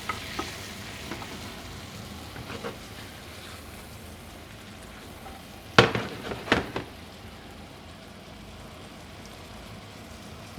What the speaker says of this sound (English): I just want to give the apples a little bit of color, soften them up a bit.